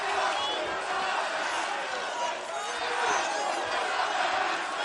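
A wrestling arena crowd at an AEW Dynamite match keeps up a dense, loud roar and chant aimed at Don Callis, a continuous wall of many voices from start to end.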